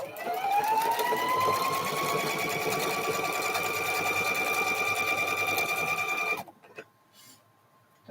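A sewing machine stitches quilt pieces at a fast, steady, rising pace, with a whining motor under rapid needle clatter. It runs loud and close for about six seconds, then stops, leaving faint handling noises.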